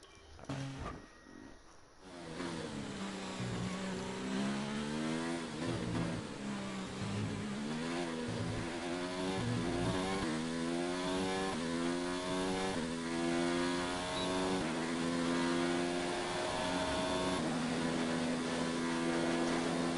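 An F1 car engine in the racing game F1 2019 on a lap of Spain, a loud high-pitched whine rising and falling with each gear change and corner, steady and up close throughout.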